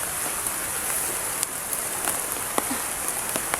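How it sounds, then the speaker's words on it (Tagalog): Steady rain falls outdoors, a continuous hiss of drops on surfaces with occasional louder individual drips, close and without talk. "naabutan tayo ng ulan dito sa critical area."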